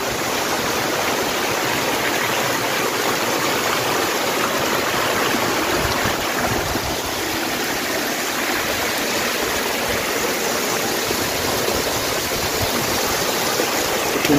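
A mountain stream at the source of a river near a cliffside temple rushes steadily, a loud, continuous broadband roar of flowing water with gurgling texture and no voices.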